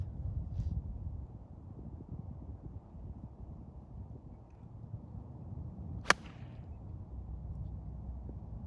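A three-quarter gap wedge struck from about 125 yards on a golf course fairway, one sharp crisp impact standing out clearly over steady outdoor wind and ambient noise.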